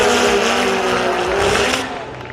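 Race cars spin out, with engines roaring and tires squealing loudly and close for about two seconds before the noise tapers off.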